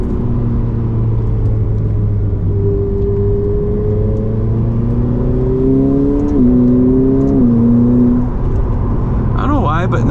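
A Ferrari F8 Tributo's turbocharged engine pulls under acceleration, a steady low drone rising gradually in pitch, with a brief dip and recovery at a gear change, heard from inside the car at a constant loud level.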